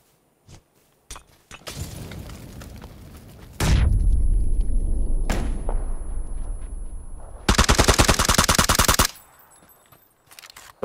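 Gunfire in the video game PUBG, played on Xbox, crashes out in sharp single shots, then a loud booming burst with a long tail and a dense rapid automatic volley, all close and without talk.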